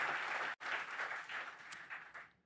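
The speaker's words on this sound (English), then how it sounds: "Can we have another round of applause for this amazing introduction by Karthik?" A crowd at a Google Cloud summit applauds after a speaker's introduction, steady clapping that briefly cuts out, resumes, then tapers off toward the end.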